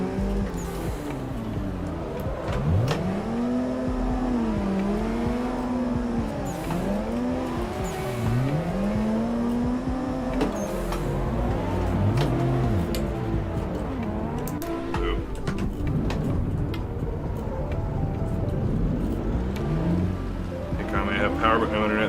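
Car drifting in the racing game Assetto Corsa: a loud engine revs and drops in repeated swooping arcs, with tire squeal and skidding, running continuously under people talking.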